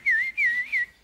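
A person whistles a signal from below a balcony, three loud, clear rising-and-falling phrases in quick succession with short gaps, heard alone without talk.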